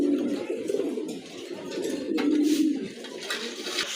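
Bombay pigeons, a large breed, coo in low repeated rolling phrases, close by and fairly loud, with faint higher bird sounds and rustling around them.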